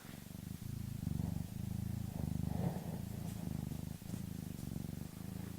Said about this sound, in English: see if they can hear you purring